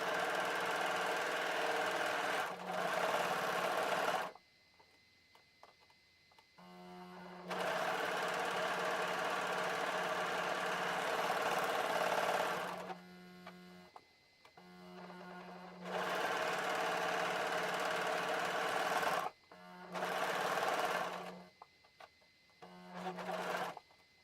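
A serger trims and overlocks a fabric edge in several long bursts, its fast, even mechanical whir starting and stopping with short quiet gaps between runs, close and clear with no talk.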